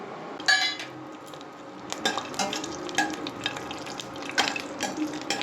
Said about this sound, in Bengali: সর্বপ্রথম হচ্ছে কাজু বাদামটা ভেজে রাখবো